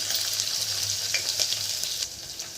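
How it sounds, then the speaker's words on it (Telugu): Cumin seeds and crushed garlic frying in oil as the tempering for sambar, a brief close crackling sizzle with small pops and a faint low hum underneath. "ఒక 1/2 టేబుల్ స్పూన్ జీలకర్ర, అలాగే వెల్లుల్లి రెమ్మలు, ఒక 5-6 వెల్లుల్లి రెమ్మలు కచ్చా దంచి వేసుకోవాలి."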